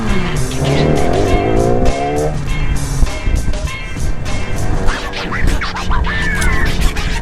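A superbike rides close behind a Honda CBR, its engine loud and near with rising revs through the gears over heavy wind roar.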